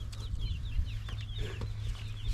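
Chickens cluck and chatter in a yard just after being released, with repeated close calls over a steady low rumble.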